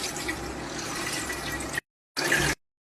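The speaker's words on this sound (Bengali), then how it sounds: "দুধটাকে আমি ঢেলে দিচ্ছি।" Milk poured into a pot while making chhena for mango rosogolla gives a steady liquid splashing for almost two seconds, stops briefly, then resumes in a short final burst, close and fairly loud.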